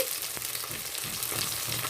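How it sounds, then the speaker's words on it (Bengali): Fish pieces rubbed with salt and turmeric fry in hot oil after being flipped, a steady close crackling sizzle with a faint utensil tap, and no talk. "এবার ভেজে নিচ্ছি এই যে মাছগুলো উল্টে দিয়েছি ভালো করে লাল লাল করে ভেজে নিচ্ছি"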